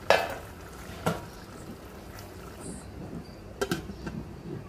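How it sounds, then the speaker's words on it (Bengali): Liver curry with potatoes, cardamom, cinnamon, bay leaf and green chilies cooking in a pot, faint low sizzling broken by a few sharp metallic clinks of a spoon against the pot near the start and toward the end. "নেড়ে চেড়ে ঢেকে দিব, এটা ভালো করে কষাবো।"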